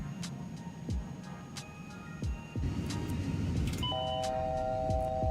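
Warning chimes sound in the cockpit of an A300 airliner in the MSFS2024 flight simulator, several short tones and steady beeping over a low engine hum, with no talking.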